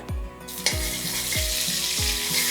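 Steady crackling sizzle of half a tablespoon of butter frying in a hot pan for palak paneer, continuous and fairly loud, with several low dull knocks recurring at regular intervals beneath it.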